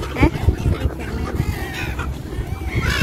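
Several short gull calls ring out at Bang Pu seaside resort, fairly close and loud, over a busy outdoor background with voices murmuring underneath.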